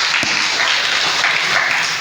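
A church congregation applauds during a sermon, a steady wash of many hands clapping at once that holds for about two seconds with no speech over it.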